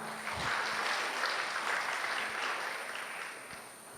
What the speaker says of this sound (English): Please, another round of applause to her